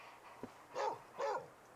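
A dog in a room makes a short yip followed by two whiny barks or whimpers, faint and moderately close, with no talking.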